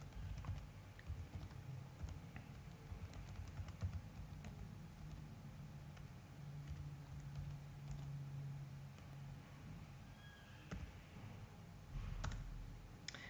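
Fingers type on a computer keyboard while a Java command is entered in Notepad++, producing irregular bursts of light clicking keystrokes with brief pauses, close by and quiet, without talk.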